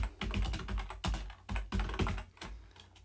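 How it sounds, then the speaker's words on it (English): A computer keyboard is typed on in quick bursts of clicky keystrokes while entering a Linux command in Debian, close and clear with short pauses between key groups. "Try Sudo now by typing sudo apt update."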